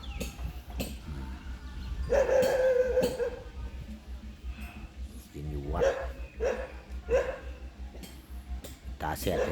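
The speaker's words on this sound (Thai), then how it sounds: "น้องหมาก็เห่าใหญ่เลย" Outdoors on temple grounds where an animal grazes, a dog barks in several loud bursts spread through the clip while someone talks nearby.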